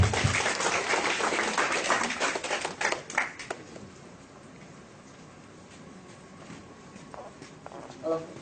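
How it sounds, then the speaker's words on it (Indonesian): Audience members at a presentation clap as Pak Hendy is called to the front, a burst of applause that fades after about three seconds into quieter room sound with a few scattered claps and faint voices. "Silakan Pak Hendy, kita kasih tepuk tangan teman-teman."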